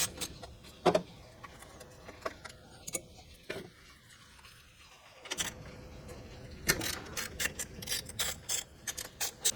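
Twelve-millimetre bolts being removed from the side cover of a Club Car XRT 950 utility vehicle, a close series of sharp metallic clicks and ratcheting rasps, with a quiet pause midway and faster clicking afterward.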